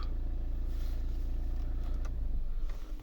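A Renault Grand Scenic III 1.5 dCi diesel from 2013 runs at a steady, fairly quiet close idle with a low engine hum and some clatter; its shutdown and restart are not clearly marked.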